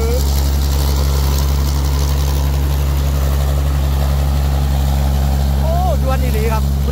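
A 240 hp combine harvester engine runs steadily nearby, a loud low droning hum with constant strength, while a voice speaks faintly over it near the end.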